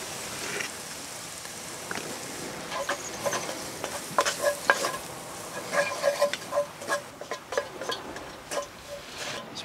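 Flour cooks with softened peppers in a pot over a campfire, giving a soft, steady sizzle broken by irregular clicks and scrapes of stirring, close and moderately quiet with no talking.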